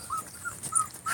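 A litter of young puppies gives thin, high whimpers in short broken bursts, close by and fairly soft, with quiet snuffling between the cries.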